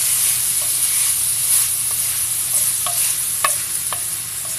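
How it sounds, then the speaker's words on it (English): Steady, bright sizzling of crumbled chorizo frying in a pan, with a few light clicks and scrapes of stirring over the constant hiss. "And as I said, you can hear the sizzle."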